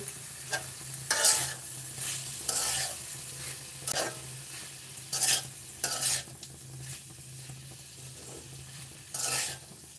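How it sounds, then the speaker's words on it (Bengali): Vegetables cooking in a home kitchen pan, a steady low sizzle broken by repeated scraping stirs of a spatula at uneven intervals, close and fairly quiet with no talking. "তাই এখন সবজিটা রান্না করে ফেলতেছি"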